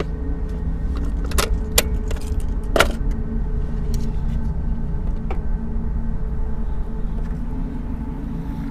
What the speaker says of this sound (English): Put the keys on the dash.